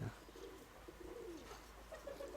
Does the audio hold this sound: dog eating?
no